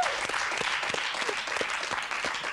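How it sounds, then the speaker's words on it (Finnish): Applause from a studio audience on a Finnish talk show, a dense and even patter of many hands held at moderate loudness for a few seconds without any speech on top. "Hienoa, mutta tälle aplodit."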